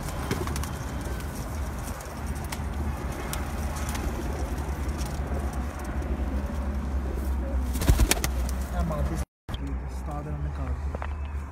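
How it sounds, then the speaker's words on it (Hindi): Pigeons coo softly on a rooftop amid a steady background hum and rustle, with faint chatter nearby and a brief dropout near the end. "एक कबूतर जनाब"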